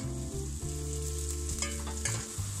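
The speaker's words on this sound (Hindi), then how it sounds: "प्याज को हम 2 से 3 मिनट तक फ्राई करेंगे।" Continuous sizzling of onions frying in hot oil, with occasional stirring scrapes and clinks, close up and steady.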